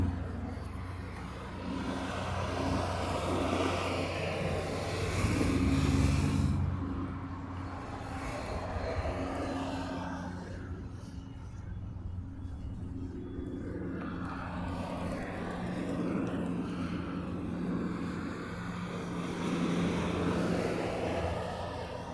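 DHL Boeing 777 cargo jet coming in to land in Hawaii, a broad distant engine roar that swells and fades over about twenty seconds outdoors, steady and moderately loud, no talk.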